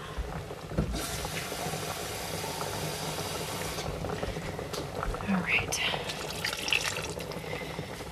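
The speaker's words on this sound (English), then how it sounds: "I'm gonna add a little more water to go with it." Water runs and splashes into a small soup pot of homemade chicken soup with noodles, a steady faucet-like rush lasting several seconds at close range, with a brief spoken word and faint clatter over it.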